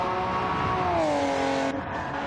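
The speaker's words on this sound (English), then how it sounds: "Just watch some cars go around" Race cars circle the track with a loud, steady engine drone whose pitch glides downward as a car passes, then cuts off near the end.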